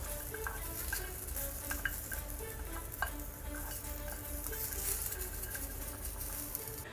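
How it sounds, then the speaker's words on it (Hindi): Onion and four garlic cloves dry-roasting in a pan without oil for a roasted chana dal chutney: a faint, steady sizzle with sparse light scrapes and taps of a spoon against the pan, quiet and wordless. "मैं प्याज और लहसुन को बिना तेल का ही हल्का सा रोस्ट कर रही हूँ"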